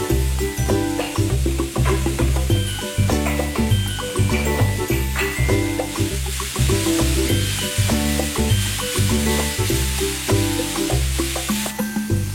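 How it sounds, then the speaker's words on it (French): Sliced onion sizzles and fries steadily in hot oil in a pan, a continuous loud crackling hiss with stirring scrapes throughout. "Dans une poêle, sœur Julienne fait chauffer un peu d'huile. Elle y ajoute ensuite l'oignon émincé."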